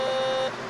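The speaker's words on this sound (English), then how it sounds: "we're going to just prove that it is in fact this screw that set off the sensor. See, it's beeping." A DR ÖTEK MT-XR metal detector sounds a steady electronic beep while held over a screw, a single sustained tone lasting about half a second before cutting off, close and clear with no talking.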